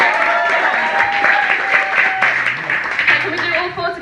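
Comedy club audience clapping together for a stand-up bit, a dense steady patter of hands with some voices mixed in, fairly close and loud throughout.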